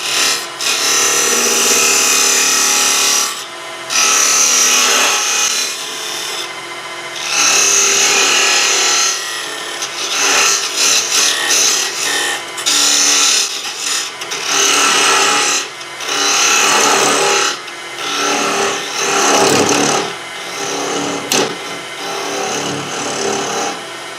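A loud, continuous scraping whir of a wood lathe cutting the inside of a lidded wooden box, coming in long bursts separated by short pauses as the tool is lifted away.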